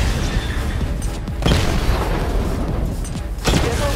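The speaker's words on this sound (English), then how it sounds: "the missile barrage to level 2 to destroy up to 4 targets at once" Batmobile missile barrage in Batman Arkham Knight: heavy booming explosions hit in quick succession over a constant rumbling din, with two especially strong blasts standing out near and loud.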